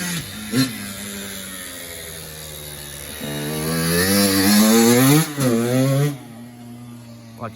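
A Kawasaki KX85 dirt bike, ridden in a yard by a 12-year-old, whines loudly and close by, its engine pitch dropping, then climbing steadily through a revving stretch before easing back off.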